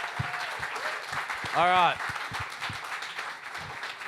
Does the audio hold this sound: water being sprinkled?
no